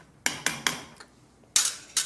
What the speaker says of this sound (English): I'm gonna put the lid on this.